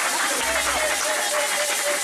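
A church congregation claps and cheers in praise of God, a dense, continuous wash of applause and crowd noise at steady loudness.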